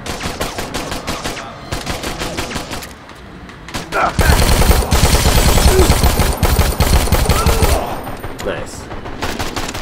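Rapid automatic gunfire in Dead Rising 4 rattles in dense, loud bursts that swell into a sustained barrage partway through, with a player briefly speaking over the shooting.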